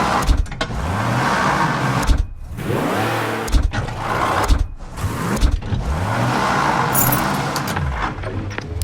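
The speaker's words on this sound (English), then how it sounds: "Let's get a car in the garage." Car engine in the video game Mafia Definitive Edition, revving and shifting through gears as it drives into a garage, loud and continuous with repeated rising pitch sweeps and brief drops between accelerations.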